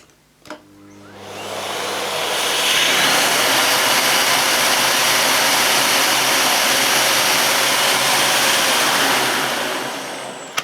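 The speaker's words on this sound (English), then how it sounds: "Make sure it's clicked into position, and I'll switch my vacuum on" An Electrolux vacuum cleaner fitted with an electrostatic duster attachment clicks, then switches on and spins up to a steady, loud whooshing roar that holds for several seconds before a final click.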